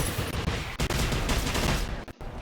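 Dense, rapid gunfire from a hostile robot in the game Generation Zero, loud and continuous with brief gaps and an abrupt cutoff near the end.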